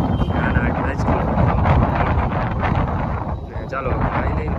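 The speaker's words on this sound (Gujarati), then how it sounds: "ચાલો જો પવન છે પવન છે ઉડી જાય છે" Strong wind buffets the microphone outdoors during a family outing in Junagadh, a loud continuous roaring rumble with gusty swells and no clear speech.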